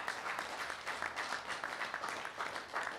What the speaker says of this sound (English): So how about a round of applause for his focus?